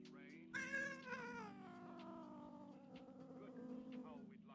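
A pet cat named Angie, upset, lets out a long drawn-out meow that wavers and slowly fades, loud and close, with no other voices.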